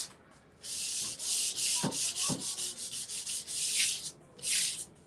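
Repeated scratchy strokes of sandpaper scuff sanding a varnished wood surface, rubbing back and forth, close and rhythmic, with a few brief knocks in between.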